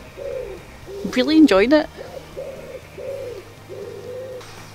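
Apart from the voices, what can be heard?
birds calling outdoors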